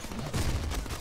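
Enemy gunfire in the Deadpool video game, a dense, continuous burst of rapid shots that holds steady and loud for the whole second, with no voices over it.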